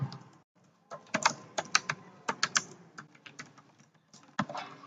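Rapid clusters of keystrokes on a computer keyboard, close and crisp, with short pauses between bursts and no talking over them.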